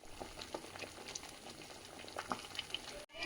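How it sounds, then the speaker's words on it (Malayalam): A packet of instant Kerala fish curry with coconut milk simmers in a pot of boiling water on a gas stove, giving a close, steady bubbling and popping for about three seconds before a brief cut. "അതായപ്പോൾ നമ്മുടെ മീൻ കറി തിളച്ചുകൊണ്ടിരിക്കുകയാണ്."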